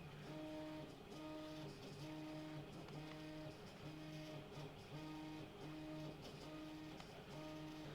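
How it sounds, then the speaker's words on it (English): A 3D printer prints a helmet model, its stepper motors playing a repeating pattern of tonal whines in short regular bursts over a low steady hum, faint and alone. "I'm 3D printing another model of a helmet model that I'm currently working on right now"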